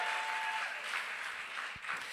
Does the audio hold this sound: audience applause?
yes